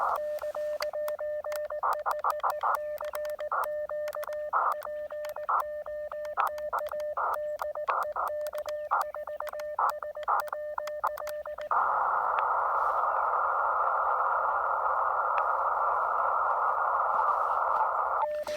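Steady radio tone keyed on and off in Morse code patterns from an Elecraft KX2 at 5 watts, followed by a stretch of continuous hissing static.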